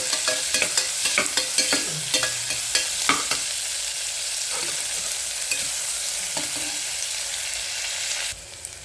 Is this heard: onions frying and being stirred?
yes